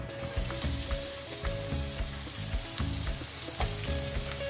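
Onions fry in hot oil in a preheated non-stick pan, a steady close sizzle with a rhythmic scrape of stirring running throughout, no voices.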